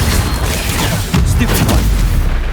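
Incendio fire spell cast in the Hogwarts Legacy video game on PS5, a loud, dense whooshing roar of flame with booming bursts that fills the short moment.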